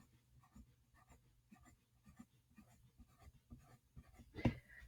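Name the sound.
drawing with a pen on paper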